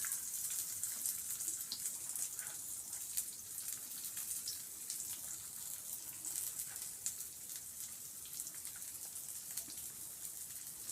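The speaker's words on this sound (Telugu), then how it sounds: "నూనె కాగింది. ఇప్పుడు మనము ఆనియన్స్ వేసుకుందాము." Onions dropped into hot oil with curry leaves, frying in a steady, hissing crackle that stays dense and even from start to finish with no voices.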